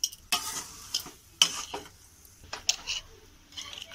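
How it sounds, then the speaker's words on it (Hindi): A spoon stirs and scrapes through chana dal halwa with sugar in a pan, giving irregular clinks and scrapes over a soft sizzle, close and moderately loud, with no talking. "इसे चलाते रहना है, छोड़ना नहीं है, नहीं तो नीचे सतने लगेगा।"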